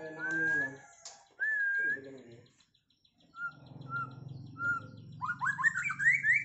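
A white-rumped shama songbird sings nearby in clear whistled phrases and short rising notes, broken by pauses and mixed with low cooing from other caged birds in the background.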